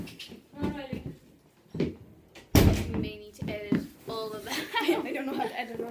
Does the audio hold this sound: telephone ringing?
no